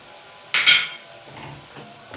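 Whole spices, including cinnamon and slit cardamom pods with lemon, are stirred in a cooking pot, giving one loud clattering scrape of spoon against metal followed by softer, scattered rustling and clinks.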